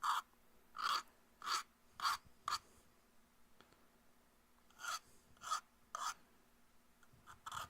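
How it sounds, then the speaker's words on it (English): A hand file deburrs a freshly made cut in short, rhythmic rasping strokes. One burst of five strokes is followed by a pause and then another run of strokes, close and fairly quiet. "I'm filing down the... or deburring it with the file"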